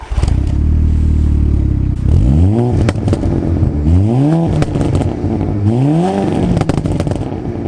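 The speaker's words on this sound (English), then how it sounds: "I want to demonstrate how good this car sounds with a few revs" A VW Golf GTI-R engine sits at a steady idle, then is blipped through three sharp revs that climb and fall back, each rise sweeping up in pitch before dropping to idle again, loud and close with no talk.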